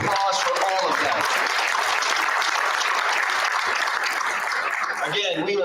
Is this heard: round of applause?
yes